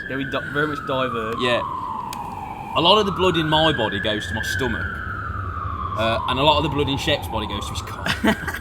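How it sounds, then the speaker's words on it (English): Emergency vehicle sirens wail in the background, with long rising and falling sweeps at moderate volume heard under someone talking casually and laughing. "apologies for the sirens in the background."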